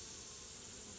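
Honeybees buzzing during a hive inspection, a dense continuous swarm drone close to the microphone, steady and unbroken but fairly faint.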